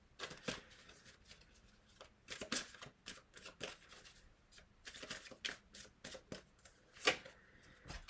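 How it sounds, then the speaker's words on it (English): Tarot deck being shuffled by hand, a run of crisp, rapid card riffles and soft slaps in irregular bursts, close and fairly quiet, with no talking. "shuffling the deck, oblivious to what it is that I'm doing."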